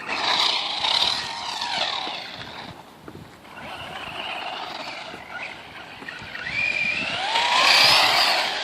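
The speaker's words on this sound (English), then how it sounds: "We're going to pull some speed runs with this truck real quick." A 2015 Traxxas Stampede 4x4 RC truck makes speed runs on a cold, slick surface, its high electric whine rising and falling loudly as it passes, with no voices.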